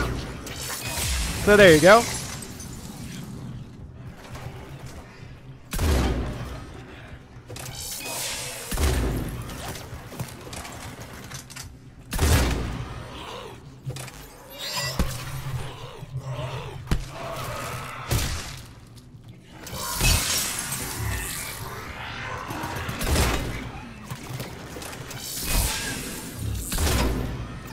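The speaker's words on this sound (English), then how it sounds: "If I don't kill one of these guys and they're primed, I can do a fire explosion." Gunfire and fiery explosions from Mass Effect 3 multiplayer, played as the Alliance Infiltration Unit, with sharp shattering bursts and thuds recurring every few seconds under steady talk.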